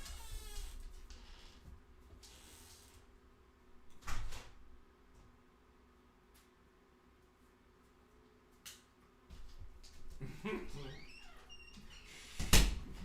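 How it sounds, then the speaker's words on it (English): A dog scratches at a door indoors, with bursts of scraping and knocking around the start, at about four seconds and again near the end, separated by quieter stretches. "Scratching at the door."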